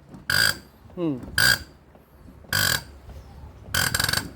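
A diesel fuel injector from a TF85 engine fires several sharp hissing pops during a pressure test, spaced irregularly, with a faint mechanical squeak and a brief murmured voice between them.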